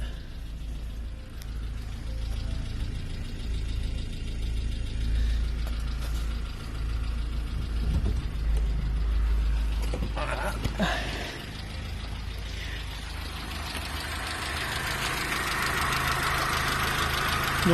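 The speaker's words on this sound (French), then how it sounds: "Donc moteur culbuté." An older four-door car with a pushrod (overhead-valve) engine idles smoothly, a low steady rumble with a faint mechanical tick and no talking, holding even with a slight rise in hiss near the end.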